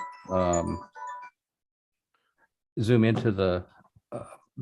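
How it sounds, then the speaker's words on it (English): A mobile phone rings during a parks, arbor and recreation board meeting, sounding as bright melodic tone bursts at moderate loudness, separated by a silent gap. "Oop, I apologize, my phone's going off."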